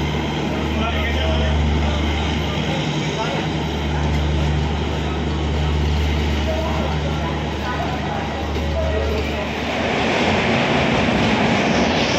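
Diva passenger train running near Ratnagiri station in India, a loud continuous rumble with a low steady drone and rolling wheel noise that brightens near the end, with a voice speaking over it.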